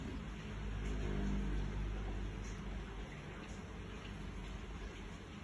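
Heavy rain pouring down during a thunderstorm, a steady dense hiss of falling water with low rumbling underneath, continuous and fairly loud throughout with no voices.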